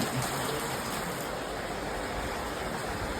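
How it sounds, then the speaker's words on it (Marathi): Heavy rain pours down outside a salon, a dense, even hiss of falling water that continues steadily throughout, with no voices. "पाऊस पडतोय मजबूत हे बघा"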